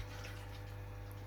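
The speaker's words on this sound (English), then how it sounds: "I'm now running the water out of the kettle here, all the way around through the pump" Cooled beer wort runs out of a brewing kettle through a pump with a steady, low mechanical hum and a soft wash of flowing liquid, continuous and unchanging across the short stretch.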